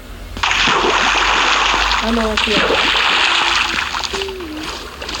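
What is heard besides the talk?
swimming and splashing in water in the video game Minecraft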